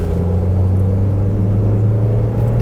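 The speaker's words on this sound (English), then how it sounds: "I hear a little exhaust leak." A 2003 Nissan Sentra SE-R engine running with a suspected exhaust leak, a loud, steady low rumble and hum recorded close up, with no talking.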